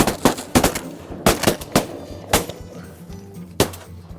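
Shotguns fire at bluebill ducks during a hunt: a rapid, irregular volley of about eight sharp, loud blasts over roughly four seconds, some in quick pairs, with a short gap before a final shot.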